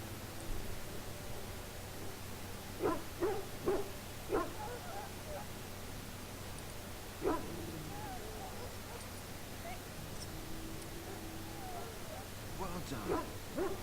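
A wounded hound in the fantasy role-playing game Dragon Age: Origins gives faint yips and whimpers in short clusters over a steady background hiss, while characters talk.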